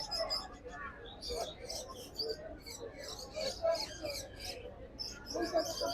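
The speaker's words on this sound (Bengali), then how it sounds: "রতন চাচা কিন্তু ম্যাক্সিমাম এই রেসার কবুতরই নিয়ে আসে সবসময়" Pigeons, mostly racing birds, coo and flutter amid a busy local pigeon market in Bangladesh, with chirpy calls and background chatter from people throughout.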